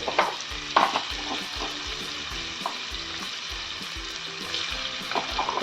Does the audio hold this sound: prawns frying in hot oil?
yes